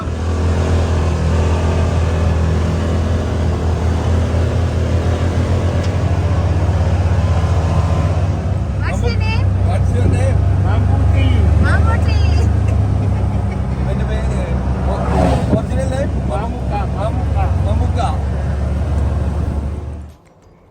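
Buggy vehicle engine on a ride near Borjomi and Bakuriani in Georgia, a steady low droning rumble running throughout as people talk over it, with bumps and rattles along the way.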